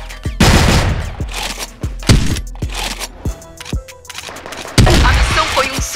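Bursts of video game gunfire, sharp repeated shots and rapid volleys with short pauses between them, loud and close.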